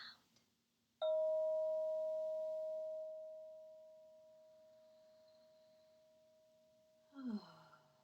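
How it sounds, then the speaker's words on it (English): A single meditation bell strikes once and rings with a clear, pure tone that slowly fades over several seconds, followed by a soft breath. "Now listen to the bell."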